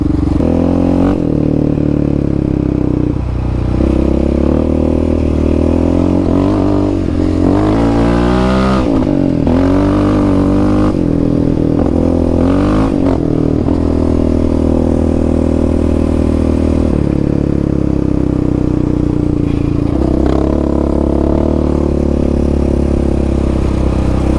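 A Yamaha Raptor 700 ATV with a Dasa exhaust pipe and EHS tune ridden on a trail, its loud, close engine revving up and down continuously with throttle blips and some clatter.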